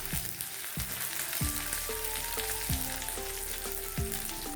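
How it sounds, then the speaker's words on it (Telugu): Thin slices of ginger and garlic fry in hot oil in a pan, a steady close sizzle and crackle alongside recurring low tonal swoops. "నూనె బాగా వేడెక్కిన తర్వాత సన్నగా కట్ చేసి పెట్టుకున్న అల్లం, వెల్లుల్లి ముక్కలు వేసి బాగా ఫ్రై చేసుకోవాలి"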